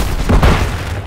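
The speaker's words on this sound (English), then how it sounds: "Throwing grenade!" A grenade blast in Call of Duty: Modern Warfare III Team Deathmatch, a single loud, close boom with a heavy low-end thump that swells and decays over about a second.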